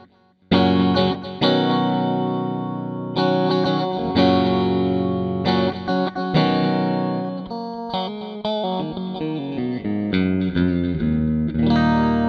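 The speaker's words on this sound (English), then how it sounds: "This is just the delay." Electric guitar played through the delay effect of a MOOER Black Truck multi-effects pedal, sustained chords and single notes trailing repeating echoes, loud and alone.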